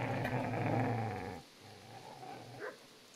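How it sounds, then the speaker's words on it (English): A dog growls in the video game Kingdom Come: Deliverance, a close, low rumbling snarl for over a second, then quieter grumbling and a short whimpering yelp near the end. "What the hell is that? Get away, you mutt!"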